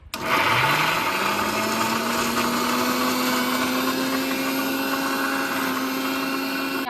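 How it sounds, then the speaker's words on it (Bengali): A mixer grinder blends ginger pieces in its jar, a loud steady motor whine spinning up within the first second and holding a constant high hum to the end, with no talk. "এবারে আদা ব্লেন্ড দিয়ে দেব"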